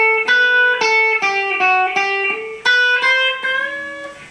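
Electric guitar solo line, a clean run up the scale and back down ending in a quick trill, about a dozen distinct picked notes, close and alone with no talking.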